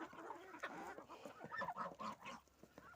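Chickens cluck and murmur close by in a steady, busy chorus, with a few sharper squawks rising over the flock in a farmyard where ducks are also kept.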